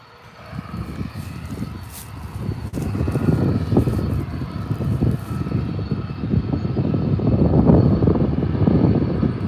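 A Malaysia Airlines airliner at Adelaide Airport idles and taxis before departing for Kuala Lumpur, its jet engines producing a steady, fairly loud broadband roar that slowly builds over the stretch, with no talking.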